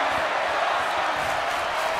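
An arena crowd in the WWE 2023 video game keeps up a steady, dense roar of cheering, with a voice faintly present underneath.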